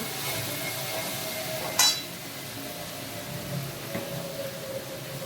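A spoon stirs rice and spices in a cooking pot, with soft scraping and a single sharp metallic clink partway through against a faint sizzling background.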